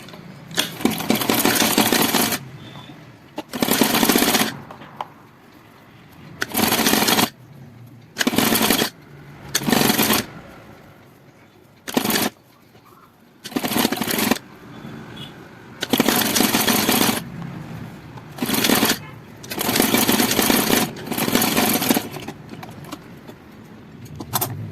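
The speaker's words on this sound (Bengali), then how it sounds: "তার উপর থেকে আমি চাপ সেলাই দেব" A sewing machine top-stitches the neck band of a blouse, running in repeated loud bursts of rapid stitching separated by short pauses, with no talk.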